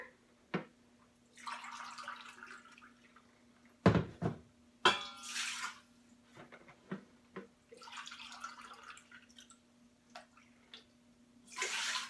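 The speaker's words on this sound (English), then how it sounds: "And then I'm going to add 2 cups of water to help my potatoes get up to pressure." Two cups of water poured into an Instant Pot, with splashing bursts of pouring, a few drips and clunks of a cup against the pot in between, close and fairly quiet.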